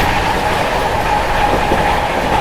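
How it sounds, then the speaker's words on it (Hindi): Bihar Sampark Kranti Express (12566 New Delhi–Darbhanga) racing past at full speed while overtaking, a loud, continuous roar of wagons with steady clickety-clack from the wheels and no voices. "पूरी रफ्तार में ओवरटेक किया है भाई अपनी बिहार संपर्क क्रांति ने"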